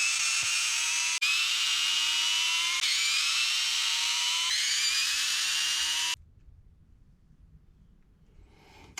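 Electric power drill driving out small screws from the ring gear of a Redcat Machete RC car center differential, four loud whirring bursts with pitch sweeping up in each, broken by short pauses, then quiet handling.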